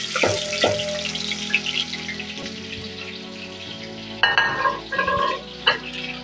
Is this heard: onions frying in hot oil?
yes